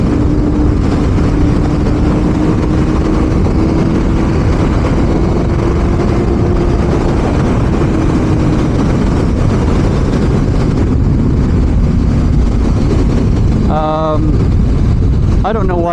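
A Suzuki GSX-R sport motorcycle engine roars steadily in fifth gear with loud wind buffeting throughout, its pitch holding then easing, ending with a brief rising whine near the end.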